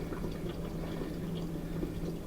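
Beef broth and water poured over oxtails in a pot, a steady close liquid gurgle and splash that runs unbroken and fairly quiet, with no talk.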